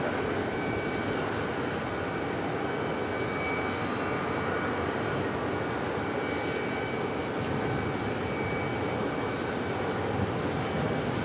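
A jet airliner's engines roar steadily at JFK airport in New York, a loud, continuous broadband rumble holding for the full length without a break and no voices over it.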